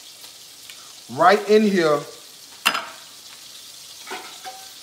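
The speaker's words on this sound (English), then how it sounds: "I put this onion right in here with my bacon" Chopped onion goes into a pan with bacon and fries with a soft, steady sizzle beneath a brief spoken remark and a sharp utensil knock.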